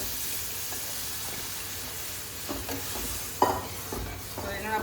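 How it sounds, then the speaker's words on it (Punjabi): A tadka of gram flour tempering in a hot pan, a soft, low sizzle with stirring scrapes and a few sharper clinks, fairly quiet and with no talk. "ਮਖਾ ਚੱਲ ਇੱਕ ਪਾਸੇ ਤੜਕਾ ਲਾ ਦਿੰਨੀ ਆ"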